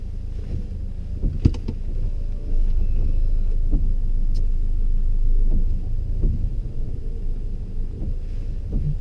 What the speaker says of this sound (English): Just restart the engine for me.